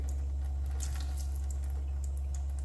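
Water runs steadily from a SimPure T1-400 reverse osmosis filter faucet, a constant close hiss and trickle over a low hum, with no talking.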